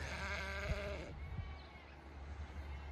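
A sheep on a farm bleats once in a long, wavering cry, close and loud, then fades into low ambient rumble with faint movement noises.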